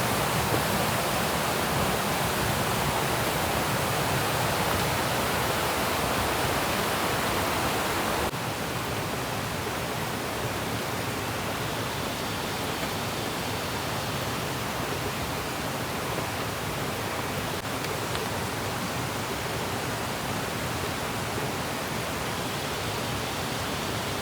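Curug Lawe waterfall at the foot of Mount Ungaran in Java pours in a constant, dense roar of falling water, close and steady without a break, with no voices over it.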